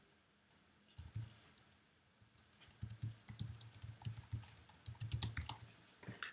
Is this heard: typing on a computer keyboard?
yes